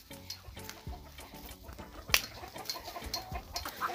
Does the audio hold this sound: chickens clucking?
yes